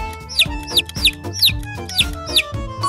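A chick peeping in a repeated series of high, sharp chirps, about seven evenly spaced calls, clear and close.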